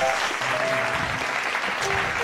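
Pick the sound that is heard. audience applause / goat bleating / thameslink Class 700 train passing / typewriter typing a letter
audience applause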